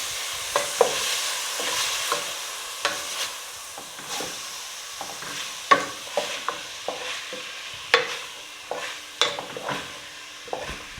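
Taco ground beef being mixed with salsa in a hot pan, a steady sizzle under repeated scraping and stirring strokes, close and moderately loud, with no talking.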